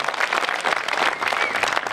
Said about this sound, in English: please give a huge round of applause and a warm welcome